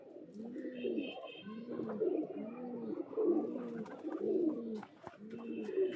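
Madrasi pigeons coo in repeated, rhythmic low rolling calls, close and clear, with a few faint chirps and small background knocks between the phrases.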